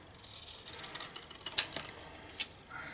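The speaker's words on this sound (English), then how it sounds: "I'm just going to use my scissors to cut freehand" A few sharp, quick snips of scissors cutting paper freehand, close by and quiet, with short pauses between the cuts.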